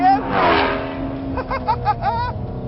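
Ford Mustang GT350R V8 revving hard on a track, a loud rising engine howl with rapid throttle blips and gear-change pulses toward the end, close and dominant.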